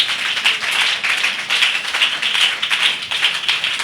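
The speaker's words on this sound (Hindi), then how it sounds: "ऐसे चाहने वाले सिर्फ ताली बजाकर धन्यवाद यीशु बोलिए" A church congregation claps hands in a fast, steady rhythm, many hands together, loud and close, with no voices over it.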